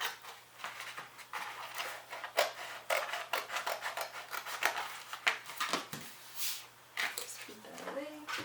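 Scissors cutting a 12 by 12 inch craft paper sheet, a run of crisp snipping and rustling strokes, close and fairly quiet, with a person speaking over it.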